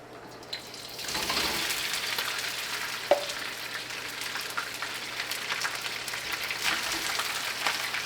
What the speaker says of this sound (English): I don't really know how long I'm meant to fry this rice in the pan.